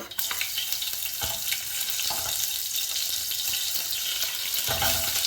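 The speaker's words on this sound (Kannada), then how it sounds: "ಸಾಸಿವೆ ಸಿಡಿಯೋಕ್ಕೆ ಸ್ಟಾರ್ಟ್ ಆಯಿತು." Mustard seeds spluttering in hot oil for palak rice, a loud, dense crackle of rapid pops with a few sharper bursts, close and continuous with no talk.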